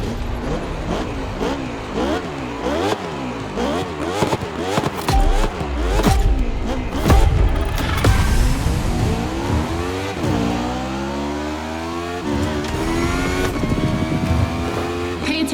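KTM RC16 Red Bull racing motorcycle engine in a video game, revving hard with rising and falling pitch sweeps through gear changes, loud and close, with a brief tire squeal and no speech.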